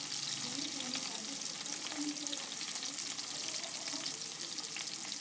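Onions sizzle and crackle in a pan for a potato and egg breakfast, a continuous dense frying hiss with stirring scrapes throughout and no voice.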